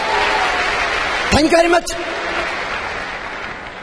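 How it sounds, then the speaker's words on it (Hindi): Loud audience applause fills the hall continuously, briefly overlapped by someone speaking at a business leadership event. "दोस्तों मैं चाहता हूँ अपने लिए जोरदार तालियां बजाइए।"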